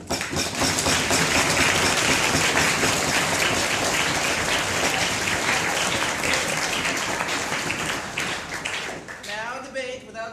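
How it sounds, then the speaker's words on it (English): A large crowd at a debate tournament's closing ceremony breaks into loud, dense, sustained applause for the debaters. It rolls on evenly for about ten seconds, then thins out as a voice begins speaking. "let's give a huge round of applause for you then"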